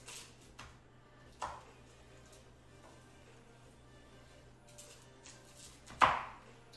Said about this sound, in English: So we're just going to chop them into some average sized pieces.